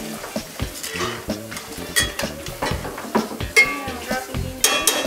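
Green beans land in a pan with shallots, garlic and bacon drippings: sizzling and frying under a quick run of utensil scrapes and pan clinks, close and busy.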